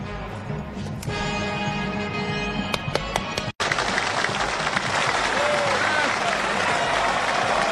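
A cinema audience applauds after a film screening, a dense steady wash of clapping broken by a brief dropout, with tonal film music and faint voices mixed in early on.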